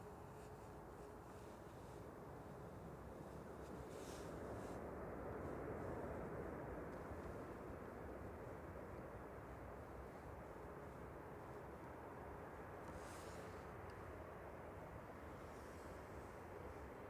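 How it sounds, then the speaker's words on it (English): A steady, distant roar from an Etihad airliner taxiing at Manchester Airport, a broad constant rumble that holds level and swells slightly midway, with no talk. "there is the Etihad taxiing out"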